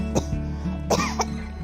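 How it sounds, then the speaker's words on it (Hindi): Two sharp, close coughs in quick succession, loud and abrupt over a low background hum. "खांसी"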